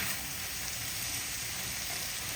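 Ground beef and a flour roux for creamed beef gravy cook in a pan with a soft, steady sizzle that stays even and unbroken, with no talking.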